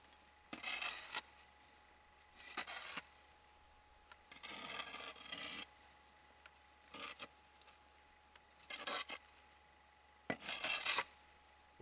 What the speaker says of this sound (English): scrape the dirt away.